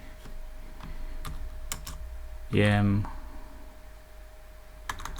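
Fingers tap out a short burst of keystrokes on a computer keyboard at a desk, a quick cluster of clicks near the middle, with a few isolated clicks before and after.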